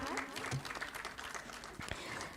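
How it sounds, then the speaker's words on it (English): In a Saurashtra University auditorium during the RASAYAN-23 international symposium, an audience applauds the Ghumar Ras dance participants, a brief, fairly quiet burst of dense clapping with faint tonal sounds mixed in. "Let's have a huge round of applause for the participants of Ghumar Ras."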